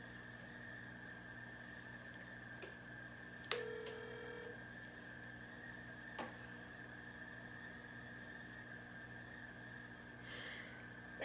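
A telephone call being dialed: quiet tones with a short beep and a few faint clicks over a steady line hum, distant and low in level, with no talk.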